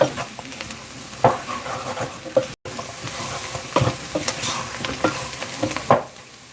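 A flour roux for a homemade soup base sizzles steadily in a pot while a spoon stirs it, with scraping strokes recurring every second or so close by.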